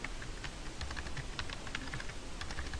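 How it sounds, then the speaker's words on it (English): Steady typing on a computer keyboard, a rapid run of close, light clicks that carries on for the whole stretch over a faint background hiss. "if I can type"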